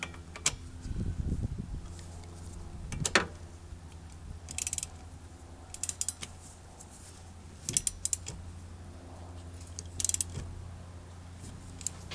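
A ratchet wrench tightens the 14mm strut nuts on a 2013 Toyota Prius V, with scattered bursts of metallic clicking and ratcheting against a low hum, fairly quiet and close, with no talking.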